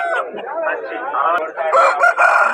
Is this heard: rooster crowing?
yes